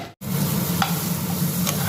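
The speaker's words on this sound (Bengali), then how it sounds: "ডালের প্রায় সবজি ভাজা হয়ে গেছে" Pumpkin and potato frying in a pan for a vegetable dal, with a steady sizzle and two short stirring scrapes, close and alone after a brief cut at the start.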